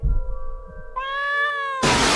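A cat in the Cowboy Bebop anime gives a clear, close meow that rises in pitch and holds, then ends abruptly as a burst of hissing noise cuts in.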